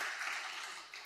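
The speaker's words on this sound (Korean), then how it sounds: "예, 라는 의미로 박수로 어서 오십시오" Brief applause from a church congregation welcoming new members at a Korean Presbyterian Sunday service in Detroit: dense, close clapping that starts full and tapers over about a second.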